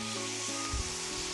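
Beef and onions frying in oil for boeuf bourguignon, a steady close sizzle with low bubbling and a brief louder pop of spattering near the end, no voices.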